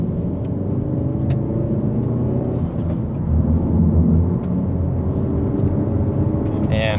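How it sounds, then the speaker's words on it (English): A 2025 Hyundai Elantra N in Sport Plus mode pulls away from second gear, its engine note droning loud and rising gently under mild acceleration, steady throughout with a slight swell midway. "And just a mild acceleration."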